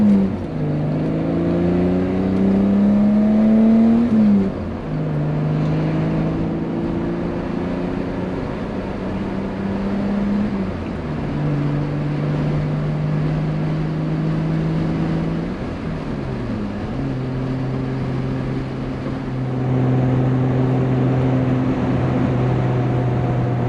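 A 1986 BMW E30 325ES two-door coupe drives through repeated gear pulls, its engine note climbing steadily and dropping at each shift, heard from on board for a long, continuous stretch with no talk.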